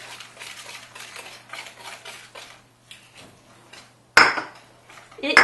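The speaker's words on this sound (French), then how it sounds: "Hop, on commence à mélanger un petit peu" Almond cream filling for a galette des rois, made with melted butter and powdered almonds, is stirred in a bowl, with soft scraping taps of a utensil against the bowl followed by a few sharp, louder clinks near the end.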